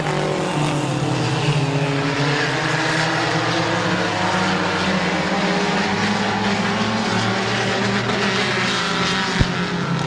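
Race cars roaring around the Midvale Speedway oval, a dense, continuous engine drone with layered revving harmonics throughout and a brief sharp spike near the end.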